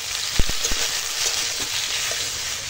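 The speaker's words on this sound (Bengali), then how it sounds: "এখন দিয়ে দেব আদা রসুন বাটা, আর দিয়ে দেব কেটে রাখা আলু টমেটো দিয়ে একসঙ্গে সব কষাবো" Ginger garlic paste frying with chopped potato and tomato in a pan, a loud continuous sizzle with a few quick spatula knocks near the start, up close and without voices.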